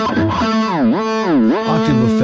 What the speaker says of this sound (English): whammy bar down,